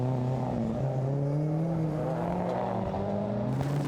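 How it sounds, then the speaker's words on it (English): A Subaru Impreza rally car launches hard off the start line at Oulton Park, its engine droning loud and steady with rising and falling pitch as it pulls away. "The Subaru Impreza of Dave Roberts and Jonathan Kennedy fires off the line as they set the 8th fastest time."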